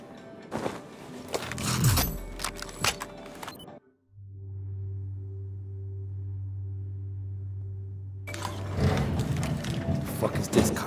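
An elevator in Battlefield 4 runs with a steady low mechanical hum and whine between bursts of loud clanking, rattling gear noise at its start and stop.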